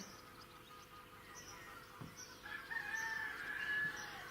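A rooster named Bob crows outdoors, a single drawn-out call in the middle distance rising over steady background hum and faint insect or bird noise.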